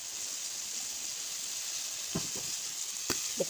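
Garlic fries in hot oil while cooking chicken legs, a steady close hiss of sizzling with a few sharp pops and crackles near the end.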